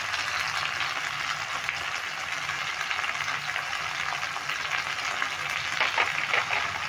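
Garlic, chili and ginger paste fries in a pan with a dense, continuous close sizzle that holds steady for several seconds, swelling slightly near the end.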